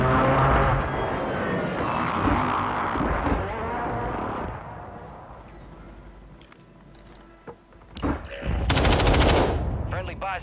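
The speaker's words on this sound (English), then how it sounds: "I got an airstrike on him." An airstrike roars through a video game battle as heavy machine-gun fire and a droning aircraft pass overhead, followed by loud explosive blasts near the end.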